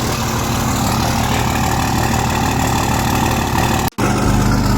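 A Ford 6.0 Powerstroke diesel truck with a grenaded turbo idles high in cold weather, a loud, steady, close rumble with a brief cut near the end.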